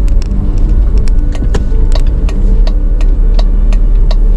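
A car rolls slowly into the parking area at the entrance to a mountain hiking route, a steady loud engine and road rumble close by, with scattered small ticks and clicks riding over it.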